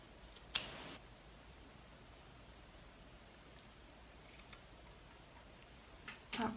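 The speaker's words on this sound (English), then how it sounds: "Now I just go through and snip all of these little guys off" Scissors snip loose threads off a sewn shirt, a few sharp isolated cuts, one near the start and a cluster toward the end, close and crisp over near silence.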